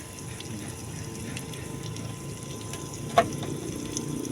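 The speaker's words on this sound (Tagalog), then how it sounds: "Lagyan natin ng tubig." Water runs into a cooking pot for a dish seasoned with crushed whole peppercorns, a steady close pour with a brief sharp clink partway through.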